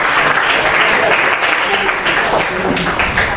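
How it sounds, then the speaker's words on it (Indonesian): An audience claps steadily through a dense round of applause for an award-winning carver at an event, loud and sustained throughout. "Beri tepuk tangan Pak Roni."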